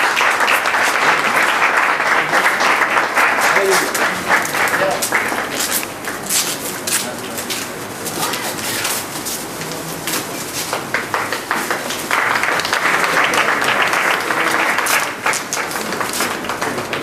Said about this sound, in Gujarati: દરેક વ્યક્તિઓ ખાસ તાળીઓથી વધાવશો